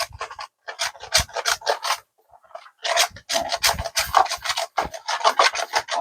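Mamon cake batter with cake flour mixed by hand, a rhythmic rasping, scraping rub of repeated strokes in quick bursts, close and fairly loud, pausing briefly partway through, no voices.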